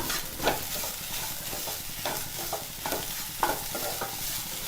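Sugar is stirred into sweet elanji filling in a pan: a steady, close scraping and swishing with soft sizzle, the spoon strokes coming in an uneven rhythm with no one talking.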